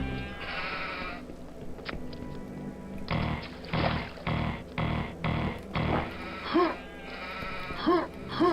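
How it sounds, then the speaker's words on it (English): Sheep bleat loudly over and over in the Quake Mjolnir mod, with several overlapping calls over steady game ambience and a low droning backdrop. "Just sheep all over the place."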